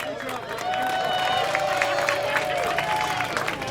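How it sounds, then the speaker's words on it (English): A crowd at a live event cheers and claps, a steady wash of applause and hollering that holds loud and close throughout, with voices mixed into the din. "Everybody give a round of applause for Milo Blue Barbie,"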